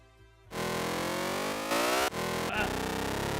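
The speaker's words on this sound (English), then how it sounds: "sounds like an evil motorbike" Snarling, buzzy engine-like sound effect from a cozy-horror indie game, evoking an evil motorbike: a sudden harsh start, a rising rev with a sharp break, then a gritty, stuttering drone.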